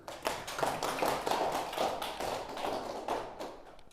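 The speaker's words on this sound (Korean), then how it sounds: "박수." A small class of students at a science high school interview prep lesson breaks into applause, steady scattered clapping of several hands lasting about four seconds, moderately quiet.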